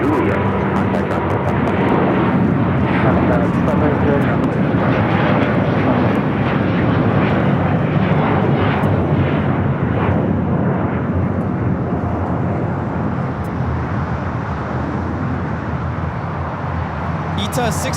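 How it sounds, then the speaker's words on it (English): An Airbus A330neo takes off at Los Angeles bound for Rome, a loud, continuous, broad jet roar holding steady throughout, with a voice talking over it. "taking off to Rome, Italy on the A330 Neo"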